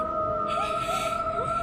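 A mythical siren from God of War sings in long, sustained, wavering tones with gliding pitch bends, eerie and continuous over a low ambient bed.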